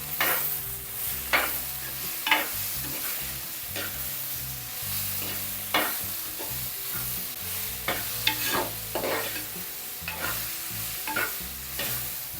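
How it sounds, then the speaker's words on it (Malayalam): Tomatoes and curry leaves sizzle in oil while a spoon stirs them for a Kerala prawn theeyal, a steady close crackle broken by repeated scraping strokes against the pan. "ഇതിനകത്ത് 2 ഇടത്തൻ തക്കാളി അത് ഇട്ട് കൊടുക്കും."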